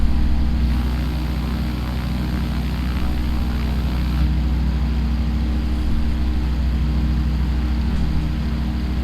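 A propeller airplane engine in the flight simulator game Microsoft Flight Simulator 2020 drones steadily and continuously, a loud, even hum with no talking.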